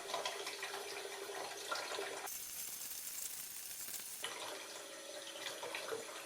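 Water pours steadily into a container in a flow experiment, a continuous close splashing rush whose tone shifts abruptly midway as the flow changes, then returns; no speech.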